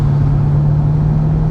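A C8 Corvette fitted with an AWE touring exhaust, idling low and steady with a strong, constant burble and a slight lift in revs, loud and close with no talking.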